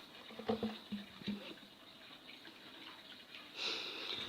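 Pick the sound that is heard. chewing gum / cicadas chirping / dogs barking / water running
water running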